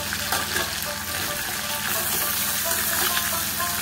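Bottle gourd greens stalks frying with fish in a pan while being stirred: a steady, dense sizzle with a constant level, close by and with no voices.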